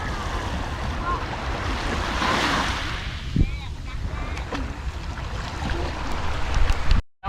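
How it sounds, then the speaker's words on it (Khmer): Sea surf breaking on the beach at Koh Kong during stormy weather: a steady, broad roar of waves mixed with gusting wind buffeting the microphone, continuous and fairly loud until it cuts off abruptly at the end. "ស្ដាប់តែសំឡេងទឹកសមុទ្រឃើញទេ"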